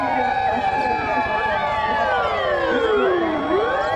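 A toy fire truck's electronic siren wails loudly and steadily throughout, its tones sweeping up and down in a continuous electronic pattern with nothing else competing.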